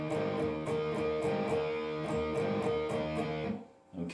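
A blues shuffle riff played on electric guitar with all down strums, in a steady bouncing rhythm with repeated chord stabs, ending briefly before a new strum begins.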